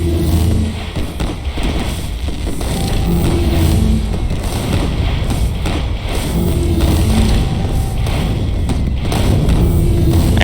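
A bomb going off in the video game The Binding of Isaac: loud, dense thumping booms repeating throughout, heavy low rumble over a constant busy game soundtrack, no voices.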